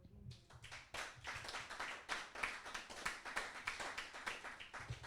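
A church congregation claps together at a sermon, a steady run of loud, fairly even handclaps with a few louder accents, filling the space with no talk over it.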